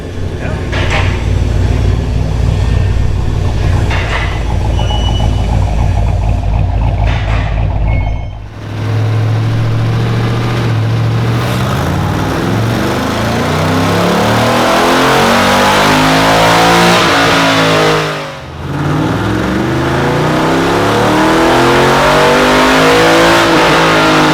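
A car engine revs loudly and repeatedly, rising and falling in pitch with brief dips between bursts, close by and dominating.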